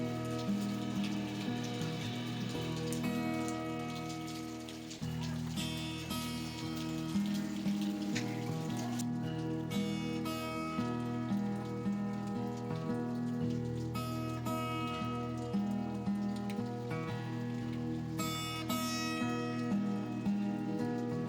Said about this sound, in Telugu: ఇంకోవైపు వర్షం పడుతూనే ఉంది.